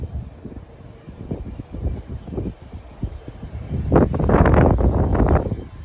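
A jet engine rumbles and builds into a loud, rushing roar as an American Eagle airliner takes off from Burlington International Airport, Vermont, wind buffeting the microphone in bursts throughout.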